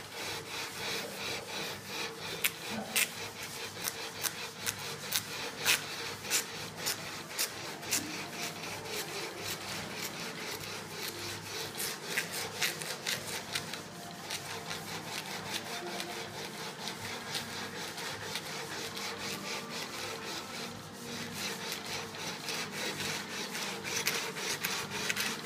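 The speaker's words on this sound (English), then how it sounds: "I have a calibrated bar with 320 grit, and I'm going to start leveling now." A 320-grit calibrated bar is rubbed back and forth over guitar frets to level them, giving a continuous, close, even scraping and rasping that runs steadily with no pauses.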